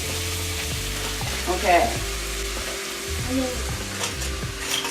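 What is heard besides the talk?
butter melting and sizzling in a hot pan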